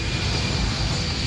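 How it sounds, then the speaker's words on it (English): A Boeing 777 jet airliner taking off from Kuala Lumpur Airport makes a dense, steady engine roar, loud and broad with no breaks and no voices. "The Boeing 777 leaves the tarmac of Kuala Lumpur Airport for the very last time."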